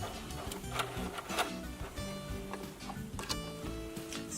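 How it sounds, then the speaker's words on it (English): A sewing machine stitches through pinned thrifted clothing, a steady mechanical chatter of needle strokes running throughout at close range with no talking. "now that we've got it all pinned, let's get to sewing"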